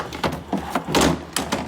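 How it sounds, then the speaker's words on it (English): The top drawer of a leaking Whirlpool Gold Series freezer is fitted into place with a quick series of plastic knocks, scrapes and thunks, close and moderately loud. "I'm gonna put in that top drawer now."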